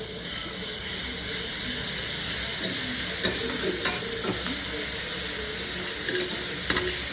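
Curry leaves and ginger-garlic paste fry in hot oil for a Madurai-style mutton curry. There is a steady, even sizzle with occasional stirring clinks from the pan.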